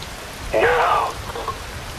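Steady rain falls in the video game Metal Gear Rising Vengeance during a monsoon setting, with a brief swell of louder hiss partway through.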